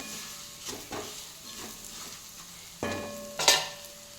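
Green chillies sauté in a pan with a soft continuous sizzle, broken by a few scraping stirs and a sharper spatter burst near the end.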